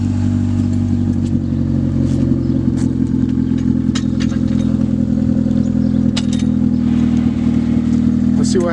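A car engine idles and runs steadily at close range while a first-time driver handles a manual transmission, with a steady low drone, a few clattering knocks and a brief rising rev near the end.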